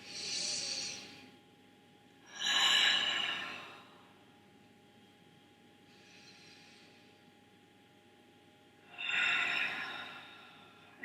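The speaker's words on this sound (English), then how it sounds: "So deep breaths" Slow, deep breaths drawn in and let out during a beginner hamstring stretch, several audible inhales and exhales spaced a few seconds apart, close and fairly soft.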